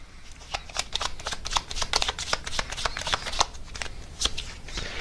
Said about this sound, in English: I might just get you guys a few more advice cards